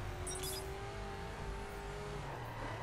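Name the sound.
Koenigsegg Agera R wheel-spin in the video game The Crew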